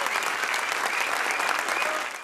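Audience applause at a short film screening of a regional film festival, a dense steady wash of many hands clapping that holds loud throughout and cuts off at the end.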